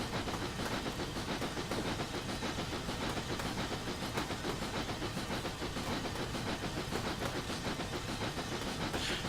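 A narrow gauge steam train runs steadily in North Wales, a continuous dense rumble and hiss with faint rhythmic clatter from the carriages, loud and close throughout with no voices.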